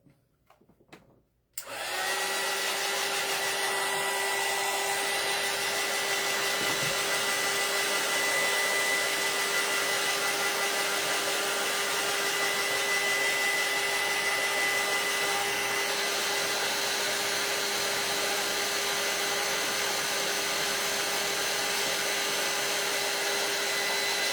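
Hair dryer blowing on a painted bunny wreath to dry it, switching on after a brief quiet start and then running loud and steady with a constant whirring hum, near and uninterrupted, with no talking.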